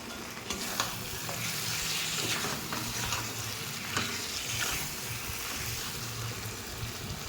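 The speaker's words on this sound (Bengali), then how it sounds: "এর মধ্যে দিয়ে দেব ম্যারিনেট করে রাখা মাংসটা দিয়ে কষে নেব" Marinated mutton sautés in spice-infused oil for a mutton and potato curry, a dense steady sizzle with a low bubbling undertone and intermittent stirring scrapes, moderately quiet and unbroken throughout.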